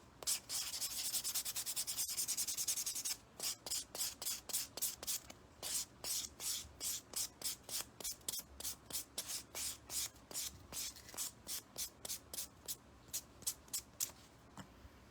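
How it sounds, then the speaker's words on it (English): Rapid back-and-forth nail buffing during a vertical ombre nail demo: a continuous rasping scrub for about three seconds, then a long run of quick, evenly spaced rubbing strokes, close and fairly loud, with no talking. "Let me go ahead and buff."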